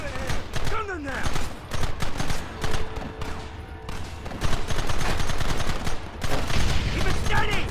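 Rapid volleys of gunfire and machine-gun bursts in a Western shootout from the video game Red Dead Redemption, loud and dense throughout, with shouted voices over the shooting.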